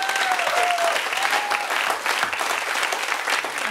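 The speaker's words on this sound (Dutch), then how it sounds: "Dus nogmaals een daverend applaus voor jullie en jullie collega's." Audience applause fills a grand-opening celebration at a music studio, a dense, steady wash of clapping close by with a brief cheer or whistle early on, continuous throughout.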